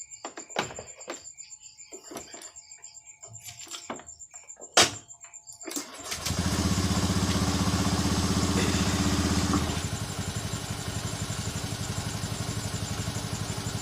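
A Honda Beat FI scooter after a tune-up, heard first as scattered clicks and knocks, then its engine starts at about six seconds and runs at a raised idle before settling into a steady, slightly lower idle.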